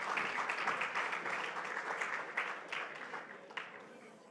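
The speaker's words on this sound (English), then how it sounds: "One more round of applause, please, for the Minister." Sustained applause from an audience at a community sports awards night honouring the Minister, steady crowd clapping at moderate distance that slowly fades.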